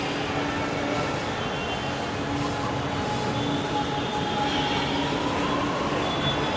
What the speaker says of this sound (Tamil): இதுதான் கனெக்டிங் ட்ரெயின்.